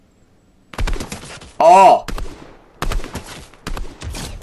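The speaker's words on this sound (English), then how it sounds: "They're shooting over here" Gunfire in the video game Fortnite, several short clustered bursts of shots popping in quick succession under a player's voice, with one loud sharp exclamation in the middle.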